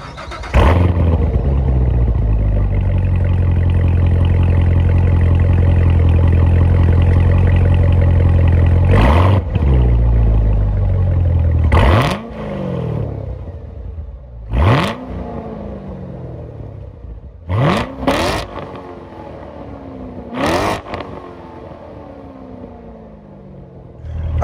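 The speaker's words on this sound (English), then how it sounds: "that was, of course, the sound of the supercharged LT4 V8 motor sold by Chevrolet for the C7 Corvette" The supercharged 6.2-liter LT4 V8 of a Chevrolet C7 Corvette Z06 holds a loud, steady high rev, then fires off a series of sharp throttle blips, each snapping up and falling away, with quiet idle gaps between.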